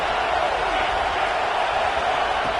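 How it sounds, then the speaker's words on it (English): Football stadium crowd roaring steadily as the defense tries for a stop near the goal line, a dense, sustained wash of cheering noise throughout. "the crowd really making some noise now, trying to help out this defense to get this stop near the goal line"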